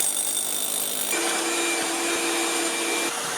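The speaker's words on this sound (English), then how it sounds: "We're pumping a hydroactive gel" Pump forcing hydroactive gel into a basement wall crack through grease fittings, a steady loud mechanical whine that shifts pitch partway through and continues without pause.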